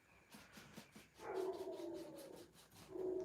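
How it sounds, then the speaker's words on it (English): Dogs bark and howl in the distance, faint and muffled, with a few short yips followed by drawn-out howling tones, indoors in a craft setting. "The dogs be barking today."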